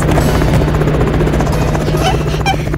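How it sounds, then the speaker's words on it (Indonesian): Helicopter arriving, a loud steady rotor drone with a constant low hum filling the whole stretch, no talk over it. "Sebuah helikopter memotong ketegangan"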